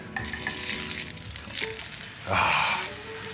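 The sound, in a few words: bread frying in oil, flipped in the pan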